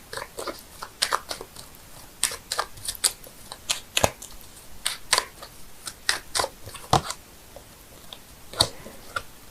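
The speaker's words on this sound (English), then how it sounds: "I'm shuffling the cards here" Quick, crisp flicks and snaps of tarot cards being shuffled, irregular bursts close by in an otherwise quiet room.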